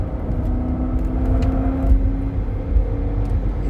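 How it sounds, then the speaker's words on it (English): A 2008 Range Rover with a lean-running engine held at wide open throttle, a loud, steady engine roar with a droning tone rising slightly, heard close with no talking. "I'm going to step on the gas as a wide open throttle"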